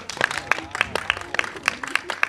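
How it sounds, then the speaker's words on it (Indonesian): A few members of the media at a film press conference give sparse, uneven claps, roughly a dozen distinct hand strikes close by over a short burst with voices faintly in the background. "Tepuk tangan dong teman-teman media."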